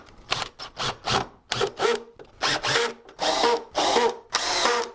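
A power drill drives a screw into a plywood strong back for a closet rod and shelf, in about eight close, loud, stuttering bursts separated by short pauses.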